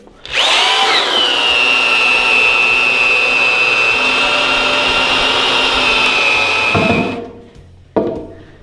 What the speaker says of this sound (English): I'm gonna drill all the holes through all the boards